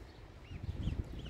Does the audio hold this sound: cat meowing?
no